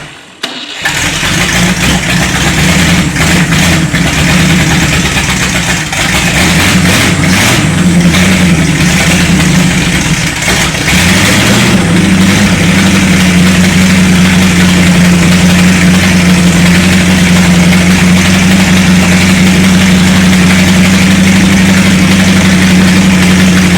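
A 1960 Cadillac with a 390 engine starts after three years unused, cranking briefly and then catching, running loud and close with a rough idle and repeated revs that settle into a steady, heavier drone.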